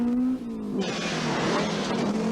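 Rally car racing past on a stage of the 1983 Circuit of Ireland, its engine revving hard and loud as it closes in and sweeps by, with a brief gear-change dip before a sustained roar.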